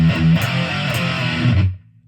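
Distorted electric guitar plays a riff at a slow tempo, chugging notes with fretted shifts for about a second and a half before cutting off into near silence.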